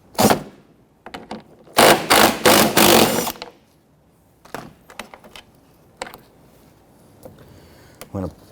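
10mm radiator bolts on a Honda Ridgeline being loosened and removed with a power tool, heard as loud close buzzing whirs, a clustered run of several, then scattered short bursts and clicks, with a voice speaking at times.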